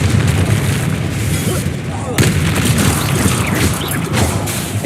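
Blasting spell explosions booming in the Hogwarts Legacy video game, a dense, loud run of rumbling bursts and crashes that goes on without a break, with a voice speaking faintly underneath.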